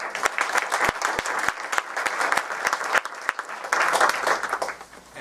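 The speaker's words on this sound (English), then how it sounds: "Let's give him a warm round of applause." A meeting audience at a San Francisco JCRC gathering gives warm applause, a dense, sustained burst of clapping with several sharp close claps, tapering off toward the end.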